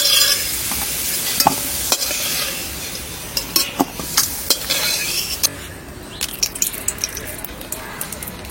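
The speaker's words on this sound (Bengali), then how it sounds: "এবারে আলুটা ভেজে নিচ্ছি, তুলে নেই।" Potatoes fry in a pan while a utensil scrapes and knocks against it, giving repeated sharp clacks over a continuous loud sizzle in a village kitchen.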